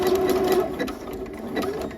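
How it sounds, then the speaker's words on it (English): Sewing machine stitching along elastic for luxe pajamas, a steady fast mechanical whir of the needle running close and continuous, briefly easing in pace midway. "stitch all the way down the length of the elastic and stitch back"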